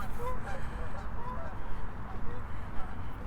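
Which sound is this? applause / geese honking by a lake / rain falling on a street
geese honking by a lake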